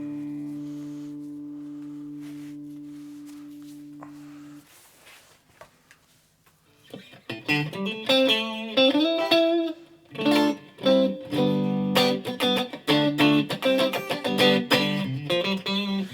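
Squier Japan Stratocaster electric guitar through an Orange TH30 amp with a Mooer reverb pedal and light El Cambo overdrive, played on the neck pickup: a sustained held tone fades out, then a run of clear picked notes and chords, heard alone.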